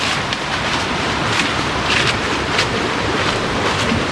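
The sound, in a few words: river flowing water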